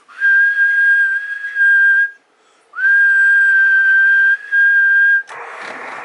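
Steady, high-pitched whistling carried over a CB radio transmission, with two long held tones broken by a short gap and ending in a burst of radio static.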